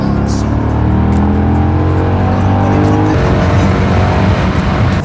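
A 2009 Maserati Quattroporte S engine roars loud and close through its quad exhaust, holding a rising revving tone for about three seconds before dropping into a rougher, lower rumble.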